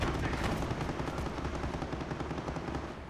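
Dense, continuous small-arms and machine-gun fire rattles through a Company of Heroes battle, a 2-3-4 rifle squad trading shots with an enemy rifle squad, heard at moderate distance as an unbroken crackling barrage.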